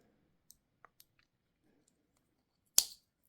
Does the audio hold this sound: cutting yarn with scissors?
yes